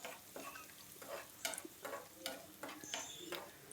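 Turmeric and spices being sautéed in a pan for a yellow potato bhaji, a soft sizzle under repeated spatula stirs and light scraping taps at a steady, unhurried pace.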